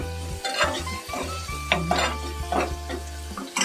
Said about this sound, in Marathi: आता ह्याच्यामध्ये लसूण टाकूया फोडणीला.